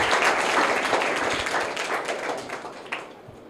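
A crowd at a private school prize ceremony gives a second-prize winner a burst of dense clapping that fades steadily over a few seconds.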